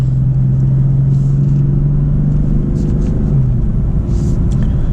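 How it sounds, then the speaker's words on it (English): BMW M4 F83 convertible with a steady engine drone and low rumble from inside the car, a sustained tone holding then dropping slightly as gears change under rev-matching; faint voices mix in. "we'll go up and down through the gears. Obviously, it's rev matching all the gears for you."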